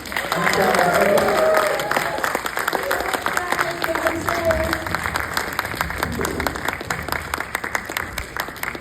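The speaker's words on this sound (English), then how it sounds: "And give a round of applause to Mike, Carl, and Shawn for coming out." A cinema audience at a post-screening Q&A for Eenie Meanie breaks into steady applause, a dense wash of many hands that swells early then holds at a lively level, with some crowd murmur beneath.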